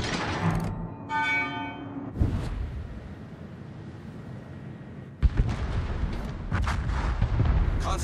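Yamato battleship main guns fire in World of Warships, booming heavy blasts with a long rumbling tail, one near the start and another around five seconds, followed by rolling explosive noise, loud and close.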